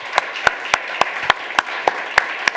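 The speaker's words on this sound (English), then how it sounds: "let's just give a round of applause to both of you" A small audience at a UC Berkeley fraud-themed debate claps sparsely, with distinct individual claps landing in an irregular rhythm at close to moderate distance.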